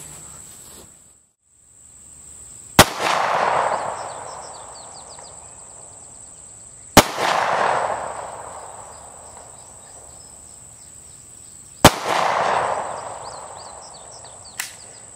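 Three sharp pistol shots from a CZ P-07 fired at an outdoor range at 15 yards, spaced several seconds apart, each loud crack trailing into a rumbling echo over steady insect chirping.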